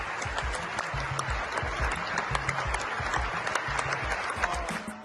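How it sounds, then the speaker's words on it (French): A theatre audience gives a standing ovation mid-speech, sustained dense clapping filling the hall at steady loudness with a faint crowd murmur beneath, continuing throughout. "Les gens ont applaudi pendant de longues minutes."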